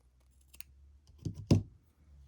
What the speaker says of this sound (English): I'm going to cut whatever's like extra